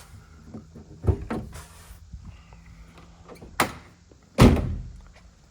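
A 1998 Land Rover Defender 90 300TDI's hood is popped open: a couple of metallic clunks and a latch release, then a heavy thump, all nearby with no talking.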